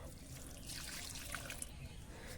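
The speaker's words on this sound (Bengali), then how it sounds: "এই জলটা আমি গাছে প্রয়োগ করব" Water mixed with red muriate of potash fertilizer trickles steadily onto a potted jasmine plant, a soft close splashing pour that stays fairly faint throughout.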